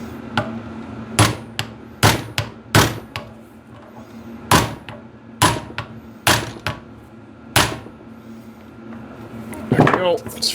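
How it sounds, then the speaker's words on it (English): A hammer strikes a manual impact driver set on a rusted bolt of a 1950s engine, giving about eight sharp metallic smacks at irregular intervals, close and loud, with a brief burst of clattering at the end. "You basically put it on there, you smack the top, and it'll apply a pressure down and twist at the same time."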